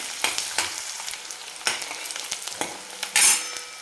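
Chopped onion sautés in a pan for methi bhaji, a low frying hiss broken by several sharp scraping stir strokes and a brighter sizzling burst near the end, close and alone.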